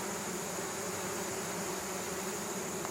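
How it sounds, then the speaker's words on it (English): Honeybees in a healthy, crowded hive with capped brood, giving a steady, dense buzzing drone that holds evenly throughout at low level, with no voices. "this is a pretty healthy hive here. That's a ton of bees."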